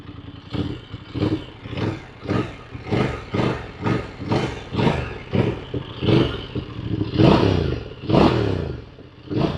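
A Voge DS900X motorcycle engine revs repeatedly up close, roughly a dozen sharp throttle blips in a steady rhythm, rising and falling, with a couple of longer, louder revs near the end.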